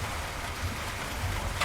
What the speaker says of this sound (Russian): We're getting rain.